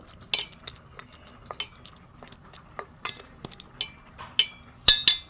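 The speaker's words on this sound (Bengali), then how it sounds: "শুকনো উপকরণগুলো একসাথে আমি মেখে নেব" Dry ingredients for radish chop batter are mixed in a metal bowl, giving sharp, scattered clinks and scrapes of utensil against metal at uneven intervals, close and otherwise quiet.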